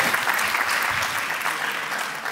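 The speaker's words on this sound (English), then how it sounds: "Please, a round of applause." Audience applause at a tech conference, a dense, even wash of many hands clapping at once, sustained and fairly loud throughout.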